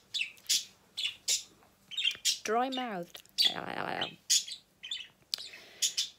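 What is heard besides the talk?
pet birds chirping in a bird cage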